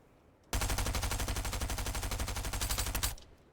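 Rapid sustained burst from the Stinger SMG in the video game Fortnite, a fast even stream of shots lasting about two and a half seconds, loud and close, cutting off abruptly with nothing else heard.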